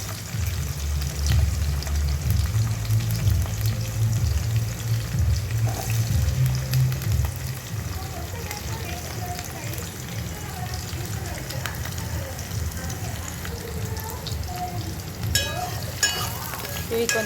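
Green chilies and onions fry in hot oil, giving a steady close sizzle and crackle throughout that sometimes drops into a lighter hiss, with some clinking near the end.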